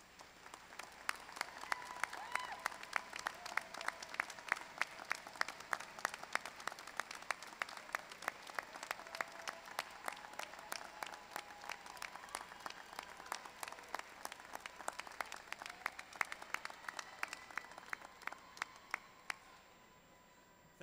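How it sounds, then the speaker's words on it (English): Sustained applause from a large crowd at a graduation ceremony, dense steady clapping that swells slightly and carries on for the whole stretch, heard from a distance. "so that the graduates may show their appreciation by a round of applause"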